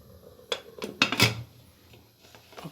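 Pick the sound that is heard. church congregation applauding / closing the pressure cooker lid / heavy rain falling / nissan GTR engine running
closing the pressure cooker lid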